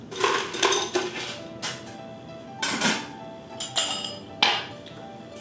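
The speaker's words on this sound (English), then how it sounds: "So now I'm gonna add a couple of chips of ice" Small chips of ice dropped into a glass of Bumbu XO rum, giving a handful of bright, separate clinks and knocks close up, with short gaps between them.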